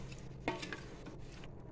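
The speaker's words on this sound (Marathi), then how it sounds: "एकदा पाणी टाकलं की मी हा असा भाजी अशी छानपैकी हलवून घेते मी" Vegetables with a little added water are stirred in a pressure cooker for veg biryani, giving a brief, quiet scrape and soft clatter of a spoon against the pot near the middle.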